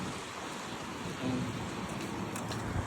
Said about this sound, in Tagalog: Lumalakas na yung ambon.